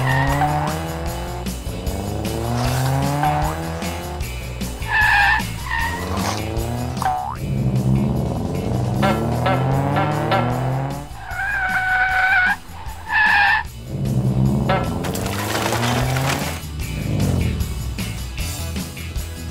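Cartoon race cars skid and screech across a sand track during an animated children's race, tires squealing and engines whining amid springy effects and lively music, with voices talking between the bursts.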